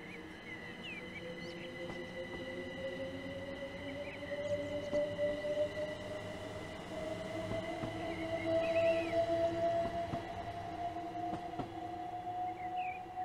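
An electric multiple-unit train in the Train Simulator Classic game pulls away on the Chatham Main Line toward Dover Priory, its traction motor whine rising steadily in pitch over a low rumble of wheels, with faint clicks and squeals.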